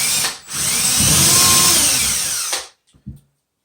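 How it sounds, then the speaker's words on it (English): A power drill pre-bores screw holes into old hard wall studs while installing floating shelves, whining loudly and steadily for about two seconds before spinning down and stopping, followed by a couple of faint clunks. "I am pre-boring for my screws."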